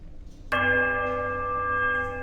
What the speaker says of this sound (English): Then we go middle, larger bell.